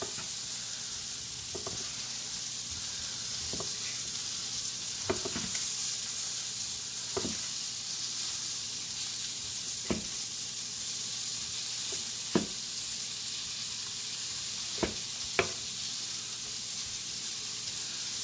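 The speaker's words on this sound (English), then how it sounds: "We got sweet peas I'm frying up real quick" Sweet peas fry in a pan with a soft, constant sizzle, punctuated by occasional light clicks and scrapes of stirring spread across the stretch.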